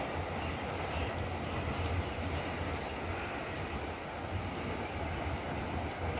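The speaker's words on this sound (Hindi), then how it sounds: "ट्रेन का काफ़ी शोर आता है, क्योंकि रेलवे स्टेशन हमारे काफ़ी नज़दीक है" A train runs near a railway station, producing a dense, continuous rumble and clatter that stays steady and fairly loud throughout, with no voices over it.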